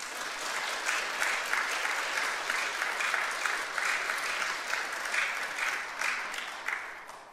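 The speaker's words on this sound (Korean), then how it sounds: "박수로 환영해 주시기 바랍니다" Church congregation applauding newly appointed stewards during a service, a dense, steady round of clapping with a slight pulsing rhythm lasting about seven seconds.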